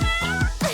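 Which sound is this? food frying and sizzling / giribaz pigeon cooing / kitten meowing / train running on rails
kitten meowing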